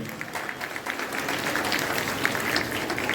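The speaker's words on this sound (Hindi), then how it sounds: "जोरदार ताली बजाएं बच्चों।" Children applauding at a school event, a steady wash of clapping from a large group at moderate loudness, with a few louder claps standing out.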